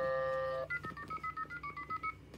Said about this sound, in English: we're now going to ring the iPhone.